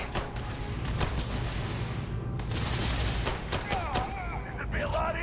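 Sustained gunfire from the game Starfield, rapid shots and bursts blending into a dense continuous barrage, with sci-fi electronic whines near the end and a voice speaking over it.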